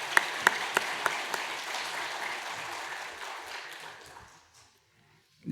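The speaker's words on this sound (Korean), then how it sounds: "오늘은 추수감사주를 맞아서 또 한번 크게 한번 박수 부탁합니다" A church congregation claps through a Sunday Thanksgiving worship service, a steady wash of applause with a few sharper claps near the start, fading out after about four seconds.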